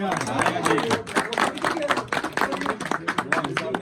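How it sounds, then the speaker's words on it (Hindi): Audience applause at an angling program ceremony honoring an ustad with garlands and scarves: dense, steady clapping fills the whole stretch, mixed with voices talking. "तालियां"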